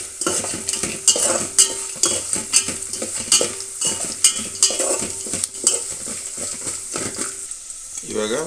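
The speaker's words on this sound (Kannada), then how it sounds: "ಆಮೇಲೆ ಸ್ವಲ್ಪ ಜೀರಿಗೆ ಹಾಗೂ ಸ್ವಲ್ಪ ಸಾಸಿವೆಯನ್ನು ಹಾಕ್ಕೊಳ್ಳಿ." Cumin and mustard seeds sizzle in hot oil in a pan while making upma, with a crackling fry broken by repeated metal spoon clinks and scrapes as they are stirred.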